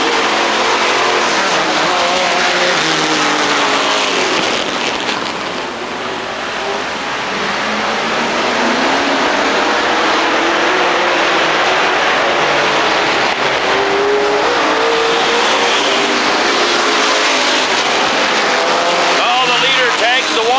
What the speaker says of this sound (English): Green flag, we're racing.